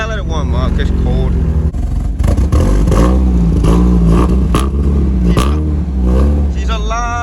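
A Mazda Miata engine on a cold day cranking and catching, then revving in rising and falling pulses, heard close and loud while someone talks excitedly over it.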